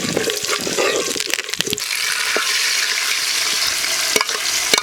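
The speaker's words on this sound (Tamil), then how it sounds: "இந்த தாளித்து ஊற்றிட்டோம்னா மாங்காய் பச்சடி ரெடி." Hot tempering poured into mango pachadi and stirred, a burst of sizzling and frying with scraping stirs near the start, settling into a steady bubbling hiss throughout.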